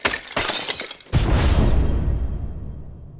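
A block of homemade ice frozen in an ordinary household freezer is struck and shatters. A few light knocks come first, then a loud, sudden crash of breaking ice that fades away over about two seconds.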